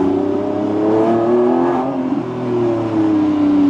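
A Lamborghini hybrid sports car engine revs hard and close, a loud aggressive roar that swells and dips slightly across a few seconds with no talking.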